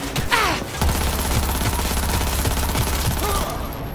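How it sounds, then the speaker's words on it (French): Rapid automatic gunfire in the video game Cyberpunk 2077 during a battle at Arasaka, a dense burst of loud, close shots lasting several seconds, with no voices. "Et il m'a repéré, voilà, ça tire."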